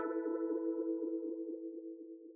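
A beat in Cubase 7.5 run through a delay with reduced feedback: a sustained tonal note with rapid pulsing echo repeats that thin out and fade gradually, no voices present.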